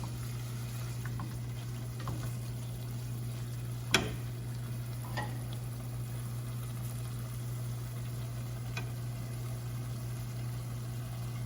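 Salt-and-peppered shrimp cooking in a pan, a low steady sizzle with faint bubbling and a single sharp clink partway through, no voices.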